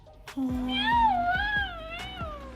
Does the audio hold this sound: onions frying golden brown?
no